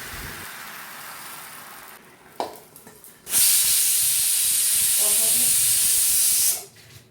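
A pressure cooker cooking curry for veg kurma lets out a loud, steady blast of hissing steam lasting about three seconds, after quieter kitchen clatter and a brief voice; the hiss cuts off abruptly at the end.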